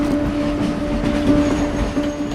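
A train rolls past on a railway track beside slum houses, a steady loud rumble of wheels and carriages with faint clacking and a thin squealing tone, close by and continuous.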